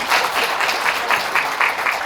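An audience at a Korean lecture on relationships and life philosophy in Daejeon claps steadily, a moderate crowd of hands in a brief, even burst.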